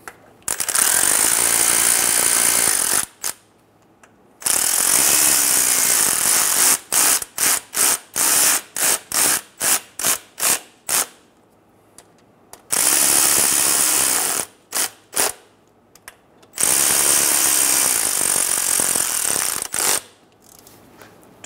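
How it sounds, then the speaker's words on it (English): Power tool snugging bolts on a 2014-2018 Chevrolet Silverado 1500 transfer case shift motor: loud bursts of impact-driver rattle, several long runs broken by a string of short quick triggers, close up. "Snug the bolts down."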